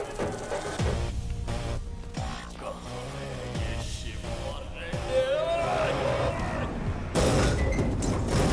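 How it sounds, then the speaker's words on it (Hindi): Loud film-scene explosions and crashing booms from an Indian action movie, dense and rumbling over a busy soundtrack, with people talking over the noise. "धमाके यहाँ तक सुनाई दी?"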